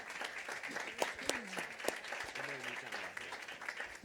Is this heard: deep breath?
no